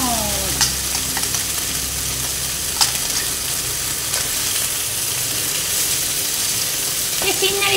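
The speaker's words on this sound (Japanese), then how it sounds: "しんなりするまで炒めてください" Onion and sausage stir-fry in a hot pan with a loud, constant sizzle, broken now and then by brief scrapes and clinks of the utensil, and no voice over it.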